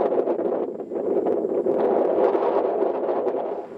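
Strong wind gusts across a high mountain camp on Aconcagua, roaring and buffeting close to the microphone in uneven surges, without any speech.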